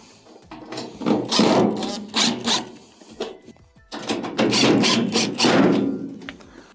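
A power screwdriver drives the top screws back into the rear back plate of a Samsung washing machine during a tub-to-pump hose repair, two bursts of close whirring and rattling separated by a short pause.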